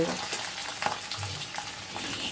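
Onion petals frying in white oil in an iron wok over a high gas flame, a dense close sizzle with several soft stirring scrapes, no talking.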